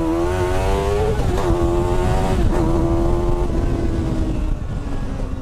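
A Honda CBR1000RR motorcycle engine fitted in an Indy R car revs hard and close, its pitch rising and dipping through several throttle blips before settling into a steady high drone.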